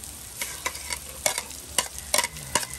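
Onion and garlic being sautéed for sisig, with spatula strokes clattering in a rhythmic series of sharp scrapes over a low, steady sizzle close by.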